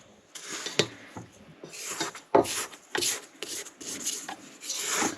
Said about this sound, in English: you want to make sure that you scrape the bowl because there's butter on the side right here